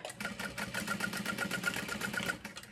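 A sewing machine runs steadily while top stitching a handbag strap, a close, rapid mechanical chatter of regular needle strokes for the whole stretch with no voices.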